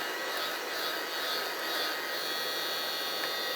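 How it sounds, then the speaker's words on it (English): A craft heat tool blows steadily over a stamped card taped down for stamping, a continuous airy, high-pitched whooshing hum that stays even and close throughout. "I'm just going to whiz the heat tool over"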